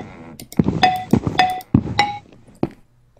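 Minecraft note blocks play a short melody from a song: about six bright plucked tones at an uneven rhythm, clear and close, with no voices.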